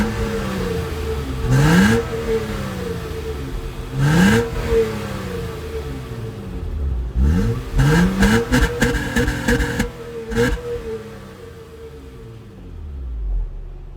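A 2006 Acura TL with a 3.2-litre engine is revved in several bursts, sharp climbs and drops over a steady idle with a whirring tone, close and loud, with no talking.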